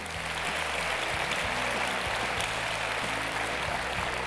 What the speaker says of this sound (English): Everybody clap it up for little Paul